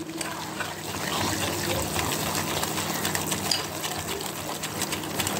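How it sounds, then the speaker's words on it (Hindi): Milk being added to a thick suji chocolate cake batter in a home kitchen, a steady continuous liquid pour with soft splashing and a low background hum, moderately loud throughout. "और थोड़ा सा दूध मैं और ऐड कर रही हूँ,"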